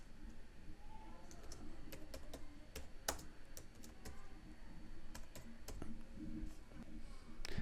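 Someone typing on a computer keyboard to fill in details, a steady stream of quick close key clicks with occasional louder taps, set against a low background hum.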